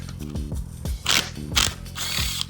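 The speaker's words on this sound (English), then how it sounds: "Unzip the axle nut, or the axle bolt." Ratchet wrench clicking rapidly in short bursts while loosening a 12mm axle nut during a manual hub conversion on a Toyota 4Runner, close and alone, with a few metallic clinks between strokes.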